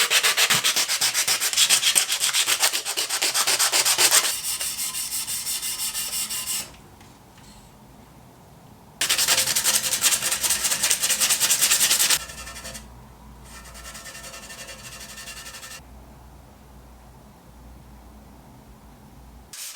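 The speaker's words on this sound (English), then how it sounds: "Once dry, I sand it flat." Steel putty on a bike frame is sanded flat, giving steady scratchy rubbing strokes in two long loud bursts separated by quieter pauses, close and with no talk.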